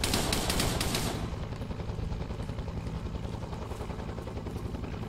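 Rapid automatic gunfire rattles loudly in a Vietnam War video game, dense bursts at the start giving way to sustained distant firing and rumbling battle noise without talk.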